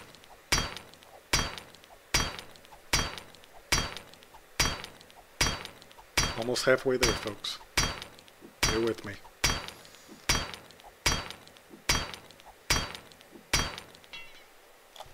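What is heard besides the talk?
hammering in video game 7 Days to Die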